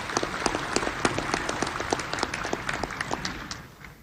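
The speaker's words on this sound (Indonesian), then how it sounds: "untuk sekali lagi memberikan tepuk tangan yang meriah" Audience applause at the 2019 Indonesian presidential and vice-presidential inauguration, a dense spread of many hands clapping steadily in a large hall before fading out toward the end.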